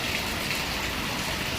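Heavy rain pours down suddenly during a thunderstorm, a dense, steady hiss of falling water, even and continuous with no voices.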